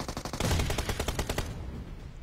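Rapid automatic gunfire during a team fight in the video game PUBG, a loud sustained burst of shots that stops abruptly and leaves a fading echo.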